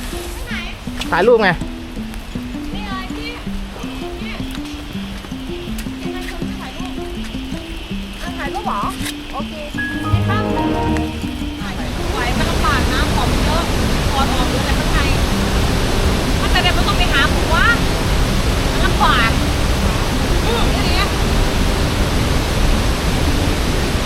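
Rain and a waterfall deep in a large forest on the Bolaven plateau, the rushing water turning into a loud, steady roar partway through, with people talking over the first half.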